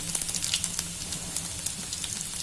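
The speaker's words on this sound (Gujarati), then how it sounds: "આપણે એકદમ સરસ હિંગને જીરું ફૂટી જવું જોઈએ" Cumin seeds and asafoetida splutter in hot oil with browned garlic, a continuous sizzle broken by quick, sharp crackles and pops, close and fairly quiet with no talking.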